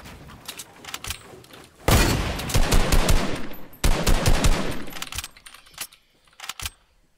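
Rapid bursts of automatic gunfire in a shooter video game, loud and close, two sustained volleys separated by a brief pause, with scattered single shots before and after.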